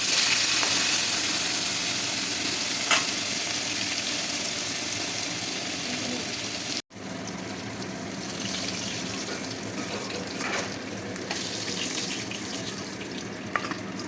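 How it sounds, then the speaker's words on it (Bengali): Pieces of chital fish fry one by one in hot mustard oil in a kadhai, producing a steady, dense sizzling hiss that runs throughout, broken only by a very brief dropout midway. "সর্ষের তেলটা গরম হয়ে গেলে তাতে মাছগুলোকে এক এক করে দিয়ে মাছগুলোকে ভেজে তুলে নেব।"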